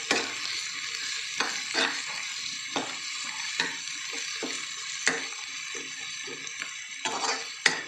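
Button mushrooms frying in a pan, a steady bright sizzle throughout, broken by repeated scraping and stirring strokes of a utensil against the pan, with no voices.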